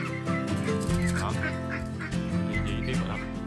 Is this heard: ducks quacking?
yes